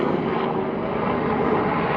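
Helicopter flying overhead at night, a continuous broad rotor and engine roar that stays steady and fairly loud for a couple of seconds with no talking.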